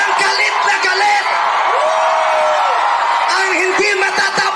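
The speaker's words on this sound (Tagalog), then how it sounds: "Sumigaw lahat ng galit. Lahat ng galit na galit." A dense crowd at a protest rally at the EDSA Shrine roars loudly and continuously, with sustained yells and whoops rising over the mass of voices.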